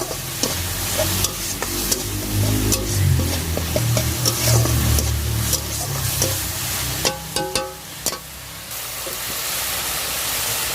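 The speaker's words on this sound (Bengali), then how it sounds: "এবার একটু ভালো করে একটু কষিয়ে নেবো" Cumin powder and spices fry and get stirred in a pan, a steady sizzle with scraping spatula strokes throughout and a few sharper clinks near the end, close and fairly loud with no talking.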